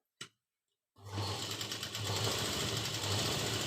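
Near and steady, a sewing machine stitches through garment fabric, starting after a single sharp click and then running continuously with a rapid, even mechanical chatter.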